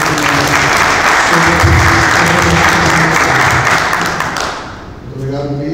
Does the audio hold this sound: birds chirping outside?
no